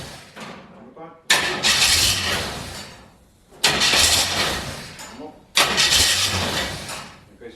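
A car engine low on fuel, with a lift pump in its fuel system, cranks in three loud, separate attempts, each one coughing and sputtering before it dies back down.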